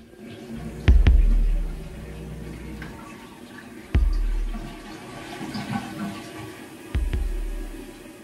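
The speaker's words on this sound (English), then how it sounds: "Okay, so my toilet just flushed." Three separate toilet flushes in a video game, each a sudden loud low rush of water that tails off over a second or two, set against a quiet room hum with no talking.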